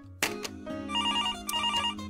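Telephone ringing in a Marathi TV serial scene, a clear electronic ringtone with warbling repeated tones heard after a brief click, fairly close and with no one talking.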